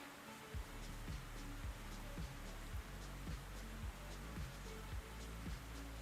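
Steady rain noise in the Cold War flight sim at dusk on a Tbilisi server, a constant hiss with recurring low thumps every half second or so, no talk.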